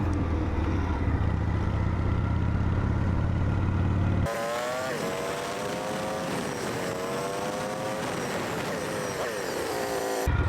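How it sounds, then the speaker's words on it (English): A Harley-Davidson Shovelhead motorcycle, fitted with a freshly tuned carburetor, rumbles steadily at a fast idle while stopped at a traffic light. The first few seconds are loud riding noise that drops away, leaving a continuous close engine drone with no talk. "Now at the light, the idle's a little bit higher than I wanted, but the mixture is definitely stable"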